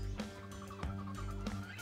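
Backyard chickens of various layer and meat breeds on a farm in Cebu cluck in short repeated bursts, fairly close, over a steady low background hum with no talking.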